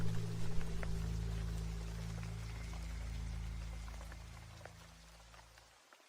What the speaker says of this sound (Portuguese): até que chove assim como hoje